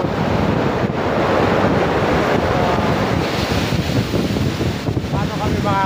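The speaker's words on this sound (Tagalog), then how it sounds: "Ang lakas ng alon." Strong ocean surf pounds a Quezon shoreline where people are camping and fishing, with a loud, continuous roar of crashing waves and gusty wind buffeting the microphone throughout.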